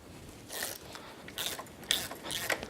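A 5mm Allen key loosens the brake pad pins on the front caliper of a Yamaha YFZ450R ATV. Faint metallic ratcheting clicks and scrapes come in short bursts.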